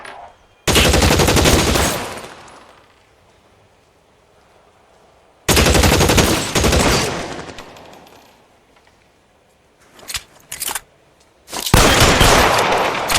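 Gunfire in the 1940s Los Angeles crime game L.A. Noire, long loud bursts of rapid automatic fire, then quiet gaps, a few short shots and another heavy burst, close and harsh.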